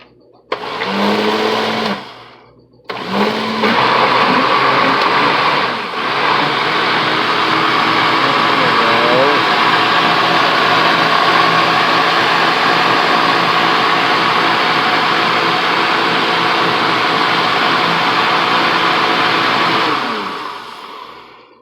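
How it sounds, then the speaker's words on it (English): A kitchen blender chops onions or shallots in a couple of short opening pulses, then whirs steadily at a loud, constant pitch for a long stretch before cutting off. "just throw it in the blender and they won't know the difference."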